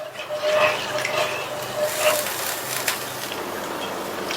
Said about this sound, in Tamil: இப்ப தண்ணி கொதிக்க ஆரம்பிச்சிருச்சு